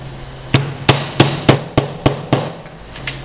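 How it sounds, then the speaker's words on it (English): A hammer strikes seven or eight times in a steady rhythm, sharp close knocks over a faint hum, then one softer tap, while making pinwheels. "take your hammer or whatever"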